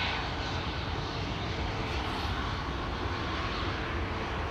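A TUI Boeing 737 MAX 8 airliner departing Schiphol for Lanzarote makes a steady, dense engine roar at moderate distance, unbroken and with no voices over it.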